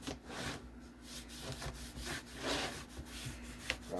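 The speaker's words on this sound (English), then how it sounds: "take a dry rag and just rub any excess dye off if you can" Dry rag rubbing excess dye off a leather western gun belt, a steady close scuffing friction in repeated strokes with a low background hum.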